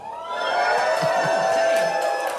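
A crowd at a Baldur's Gate 3 release showcase panel cheers and shouts in a dense, continuous roar that holds steady and loud throughout.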